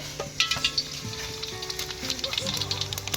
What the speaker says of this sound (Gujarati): તો મિત્રો આપણે હવે રાઈ નાખી દઈએ